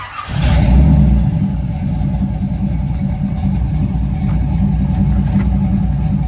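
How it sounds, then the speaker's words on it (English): A car engine revs up loudly, then settles into a steady, throaty mid-pitched drone as it holds higher revs. "RPMs up, then second gear"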